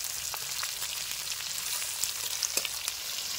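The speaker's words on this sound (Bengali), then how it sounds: "দেখতে পাচ্ছেন ক্যাপসিকামগুলো আমাদের ভাজা হয়ে গেছে" Sliced capsicum sizzles in a hot pan for an egg dopiaza, a constant close crackling fry with small pops and no voices.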